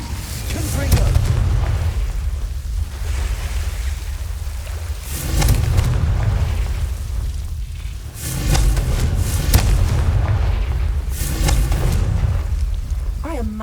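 Confringo spell explosions in Hogwarts Legacy go off as repeated deep booms that swell in rolling waves over a loud, continuous bed of game audio, with voices mixed in.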